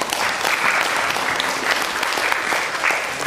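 An audience applauds warmly at a screening and debate event, a dense, even wash of many hands clapping continuously for several seconds.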